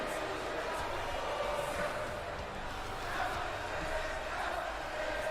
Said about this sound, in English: The crowd isn't very in tune with Bobby Roode's music here.